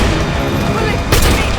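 Gunfire in a movie shootout from Wrath of Man: a dense, noisy barrage of shots under a heavy action-scene mix, with a sharper, louder burst near the end.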